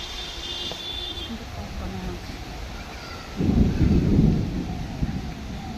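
During a rainstorm, a low roll of thunder swells for about a second over a steady hiss of rain, then fades back into the continuous downpour.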